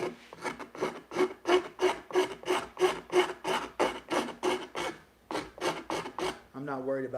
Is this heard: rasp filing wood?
yes